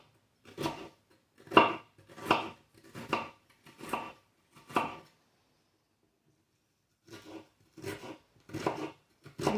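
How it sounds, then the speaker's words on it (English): Onion chopped finely with a knife on a cutting board, a run of evenly spaced thuds, then a short pause and another quick series of close, crisp knocks. "I'm going to cut it fine because you don't want to really have a big chunk of onion in a salad."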